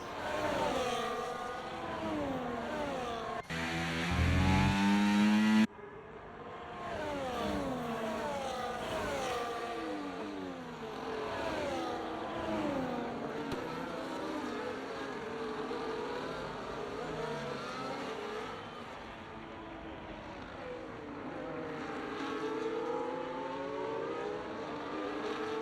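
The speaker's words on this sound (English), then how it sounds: "Weisberg bringing that McLaren in now" A McLaren race car runs at a charity race event, its engine droning steadily for the whole stretch with a brief louder burst early on, with no talk over it.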